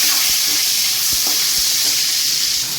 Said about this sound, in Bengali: পনিরগুলো আমি একদম নরম নরম করে ভাজবো, যাতে পনিরগুলো শক্ত না হয়ে যায়।